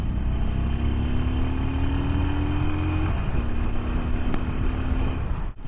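A Harley-Davidson Sportster 48 Special motorcycle accelerates hard on the road, its engine note rising steadily, dropping at a gear change, then climbing again under steady wind roar, loud and close.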